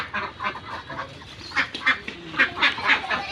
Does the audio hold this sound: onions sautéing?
no